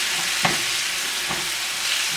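Tomatoes and vegetables for a Greek omelet cook down in a pan with a steady, close sizzle and a couple of soft stirring knocks, no voices.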